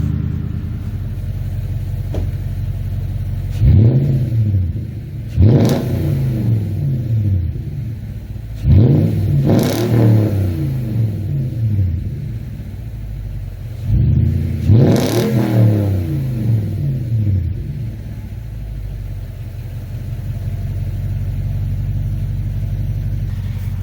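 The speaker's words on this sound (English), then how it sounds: "We'll do a couple of revs, then hit the road" A Toyota Tundra 4.6L V8 with muffler delete and Y-pipe custom exhaust revs hard three times, each deep roaring burst rising and falling back to a rumbling idle, loud and close with a raw, throaty exhaust.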